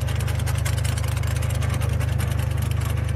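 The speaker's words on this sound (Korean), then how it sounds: "지금 트랙터가 제가 지금 RPM을 최저 속도로 놓았거든요" A tractor engine idling at its lowest RPM while driving a screw log splitter, a steady low mechanical drone with an even rhythmic pulse throughout and no talk.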